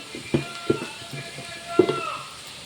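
Ginger and garlic sizzle in hot oil in a pan while potatoes are being fried, a soft steady frying hiss broken by a few sharp pops and clinks of stirring.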